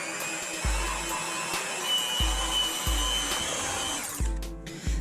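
An electric mixer whirs steadily on medium speed through German chocolate cake batter, a continuous high motor whine close by with occasional low thumps as the beaters knock the bowl, changing tone near the end.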